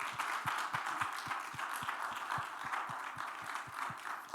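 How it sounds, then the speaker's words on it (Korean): A church congregation claps in a steady, even rhythm of about three beats per second, with a broad wash of reverberant hall noise running continuously underneath. "우리 주님께 영광의 박수 올려드립시다"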